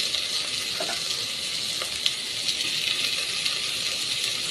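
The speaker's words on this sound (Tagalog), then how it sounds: "Lagay mga pasayan." Shrimp hit a pan of ginataang gulay, the coconut-milk vegetable stew, and set off a steady, close hiss of sizzling with a few faint clinks, without any talk.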